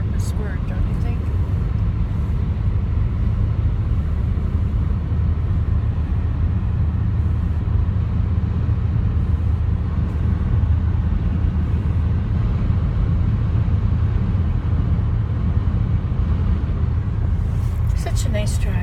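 A car cruises along a snowy winter road with a steady, loud low rumble of engine and tires that runs throughout.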